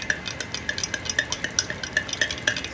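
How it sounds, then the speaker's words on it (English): A spoon swirls Vietnamese coffee with thick condensed milk in a glass, making rapid, steady rhythmic clinks and scraping, close and clear with no talking. "you can see the mixing of the coffee"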